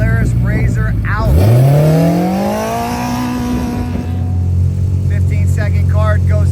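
A Polaris RZR off-road race vehicle revs hard, its engine note climbing steadily in pitch over a few seconds, with a race announcer talking before and after.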